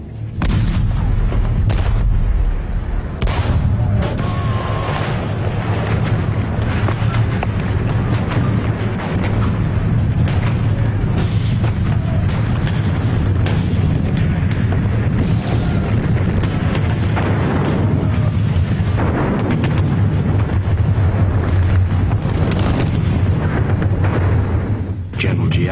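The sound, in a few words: artillery bombardment in the assault on Dien Bien Phu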